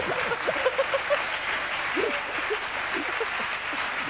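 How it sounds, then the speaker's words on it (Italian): A television talk-show studio audience applauds steadily in a continuous, moderately loud patter of clapping, with a few brief tonal blips scattered over it. "L'applauso degli uomini, questo."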